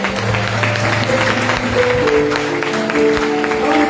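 Congregation applauding in a church service, continuous dense clapping at close range with voices and sustained tones underneath.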